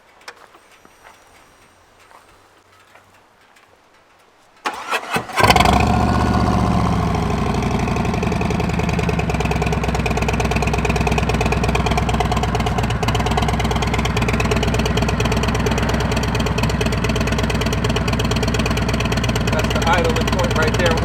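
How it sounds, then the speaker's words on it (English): A Harley-Davidson Road Glide Special with stock head pipe, catalytic converter and Cobra Neighbor Hater slip-ons cranks over after a quiet stretch, then settles into a loud, close, lumpy idle. "we're gonna start this bike up"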